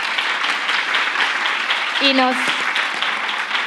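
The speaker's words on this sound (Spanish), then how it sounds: "le vamos a dar un pedazo de aplauso" Audience applause fills a hall at a panel discussion on gender-violence narratives. It is a steady, dense wash of clapping that runs the whole time, with a voice speaking over it.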